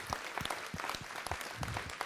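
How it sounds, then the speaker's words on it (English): Scattered, distinct handclaps ring out from an audience at a city council meeting, a fairly quiet and sparse round of applause with individual claps standing out. "so that we can give you a round of applause"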